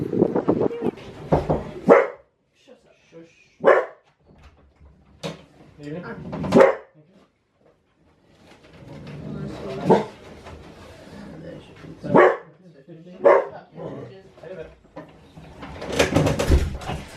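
A dog barks on an outdoor walk, with several sharp, loud barks spaced out over the clip, people talking around them and bird calls in the background.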